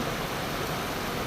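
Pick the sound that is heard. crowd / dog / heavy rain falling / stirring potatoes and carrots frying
heavy rain falling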